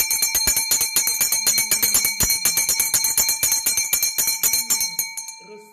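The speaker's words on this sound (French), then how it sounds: "Je vais sonner la cloche de l'argent." A small money bell is shaken rapidly, producing a continuous bright jingling of evenly spaced metallic rings close up that slows and fades after about five seconds.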